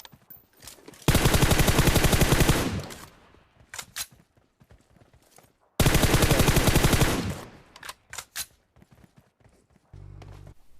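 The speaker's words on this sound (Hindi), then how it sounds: "मैं गोली चलाता हूँ, कार पे जाके गोली लगती है।" Automatic gunfire in PUBG Mobile: two long, loud, rapid bursts of about a second and a half each, separated by a few scattered single shots and clicks, close and dominant with no talk.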